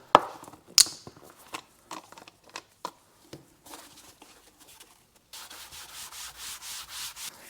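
Kitchen sponge soaked in 93% denatured alcohol scrubs old textured coating off BMW E46 330ci interior trim, starting with scattered taps and light rubs, then settling into steady rhythmic back-and-forth scrubbing close up.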